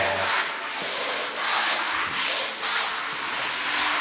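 A terrazzo floor being ground with a 100-grit pad on a damp surface gives loud, close abrasive rubbing in long sweeping passes with brief dips between strokes.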